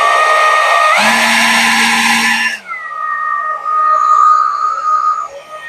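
A Pilento 20V cordless leaf blower runs with a loud, steady whine that jumps to a harsher, higher-speed roar for about a second and a half, then drops back to a lighter, lower-speed hum.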